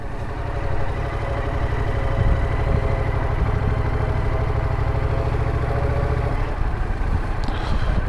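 A Yamaha MT-07 motorcycle engine turning over at low speed, a steady loud parallel-twin thrum with even pulsing that eases slightly near the end.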